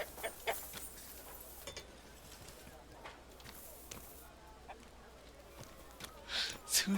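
Chickens cluck and squawk in Kingdom Come: Deliverance II, short sharp bursts scattered over a busy game backdrop, with a loud flurry near the end.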